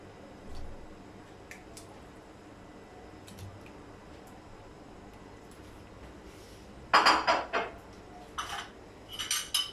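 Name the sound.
adding meat into pressure cooker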